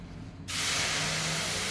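A sudden loud, steady hiss and sputter erupts as boiling water hits hot semolina in a pan, continuing strongly and close up with no voices.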